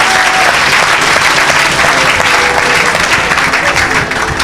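A large church congregation applauds Jesus during a sermon, a loud, dense and sustained wash of clapping from many hands that holds steady throughout, with a faint musical tone beneath.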